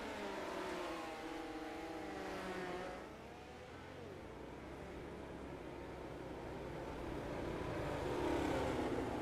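Midget race cars racing under green flag in the Mighty Midget Series, a steady, loud engine roar of several cars with rising and falling revs as they pass, no talking.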